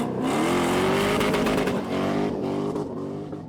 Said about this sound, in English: it's an LS swapped 944, which was absolutely ripping it